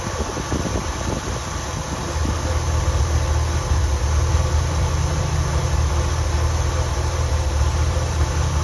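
Chevrolet Corvette C4 with a V8 engine idles nearby, a steady low rumble that deepens and firms up after a couple of seconds and then holds constant, with no talking.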